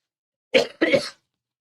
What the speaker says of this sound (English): I pressed it and I just coughed